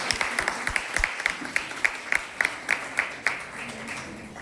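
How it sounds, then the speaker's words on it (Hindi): Audience applause welcoming a young student performer playing child Ramanujan at a college stage show; scattered, moderate clapping with distinct individual claps standing out, continuing steadily before thinning. "जोरदार तालियों से स्वागत कीजिए हमारे छोटे रामानुजन।"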